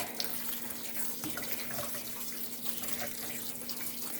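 Tap water runs steadily into a sink as frozen vegetables are rinsed, a soft continuous splashing stream heard alone at low level.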